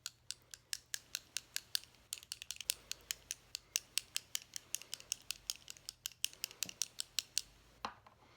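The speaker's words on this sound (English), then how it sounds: "Okay, shake up your tube." A LipSense lipstick tube is shaken hard, making a long run of crisp, evenly spaced clacks that rattle in a steady rhythm, close and clear, with a short pause midway and no talking.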